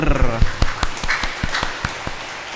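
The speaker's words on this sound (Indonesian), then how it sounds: "Mari kita memberikan tepuk tangan untuk tim formatur." A church congregation at a Catholic parish Mass for the Feast of the Baptism of the Lord gives scattered applause, a handful of distinct claps at an uneven pace, heard under a voice and musical tones.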